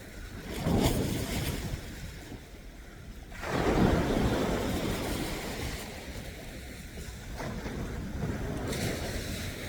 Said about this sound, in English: those waves are really very, very low today